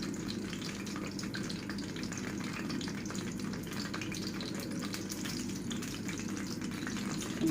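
Crispy-coated chicken strips fry in hot oil with a steady, dense sizzle and crackle, close and continuous throughout without talking.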